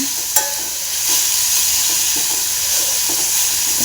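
Carrots fry in ghee for carrot payasam, a close, loud, even sizzle with a sharp clink near the start and soft stirring scrapes throughout.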